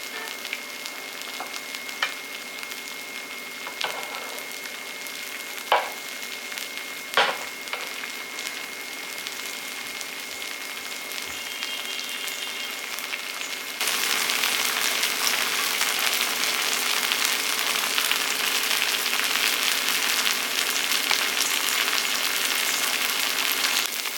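Rava dosa sizzles in ghee on a hot pan, a steady frying hiss that swells louder and denser about halfway through as more ghee goes in. A few soft clicks sound early on, and no one speaks.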